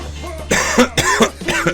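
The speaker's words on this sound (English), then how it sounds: "Let's get a coughing fit." A person coughs in three harsh bursts, each a quick cluster of rasping hacks, close and loud over a steady low hum.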